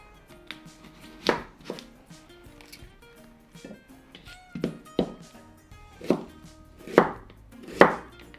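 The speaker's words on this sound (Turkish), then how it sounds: "bir yeşil soğan, bir kuru soğan, onları doğramaya geçiyorum" A knife chops onions on a cutting board in uneven strokes, each a firm thud, with faint kitchen clatter between them.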